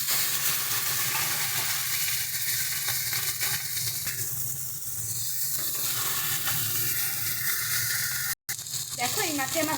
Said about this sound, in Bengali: একই রকমভাবে আমরা আরেকটা মাছের মাথাকেও ভেজে নেব।